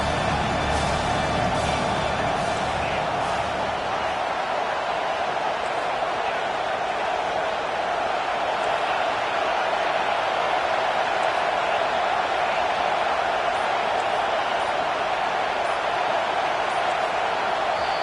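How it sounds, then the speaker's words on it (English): A college football stadium crowd at Texas versus Georgia cheers loudly on third down, a sustained, rising wall of noise that stays dense and continuous throughout, with a commentator's voice faintly under it at the start. "Decibels rising as the crowd gets behind this defense on third down."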